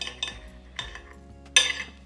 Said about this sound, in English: Before I taste it though, I want to cut one in half.